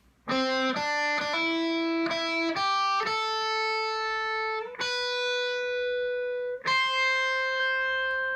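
A bright electric guitar plays a harmony riff, quick picked notes settling into long ringing tones, loud and clear with no talking.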